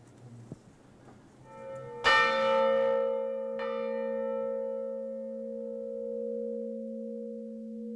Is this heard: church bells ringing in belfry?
yes